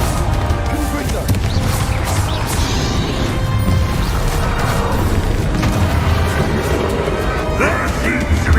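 Confringo explosive spell cast in Hogwarts Legacy, heard as crashing, smashing blasts within a constant roar of battle noise, with voices over the fighting.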